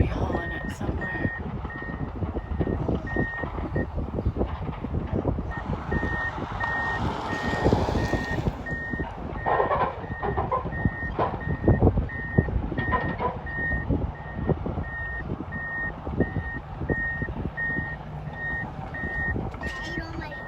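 A truck hauls away an old culvert on a farm, its reversing alarm beeping steadily and evenly the whole time over a constant engine rumble outdoors.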